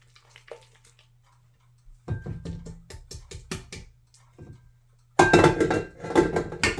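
Whisk mixing pineapple sheet cake batter in a bowl, with bursts of rapid rhythmic clinking and scraping separated by quiet pauses, ending in a louder, busier stretch of whisking close by.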